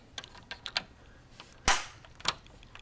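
Plastic front LED clip on an Xbox 360 snapping back into place, heard as a sharp, close click among several faint small plastic ticks and handling noises.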